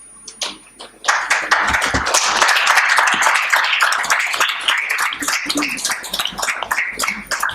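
Audience applause at a panel session on ethics and education, a dense, sustained burst of clapping that starts after a brief pause and holds steady and loud for several seconds, with scattered voices mixed in.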